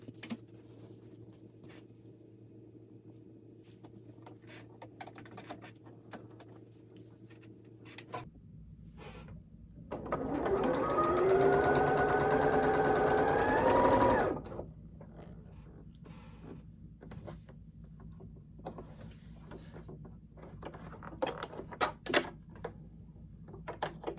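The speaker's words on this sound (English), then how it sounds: "we are going to sew down these seams first and with a 1/4 inch" A sewing machine stitching quilt seams whirs in a single steady run of about four seconds, moderately close, set between quieter stretches of light handling noise.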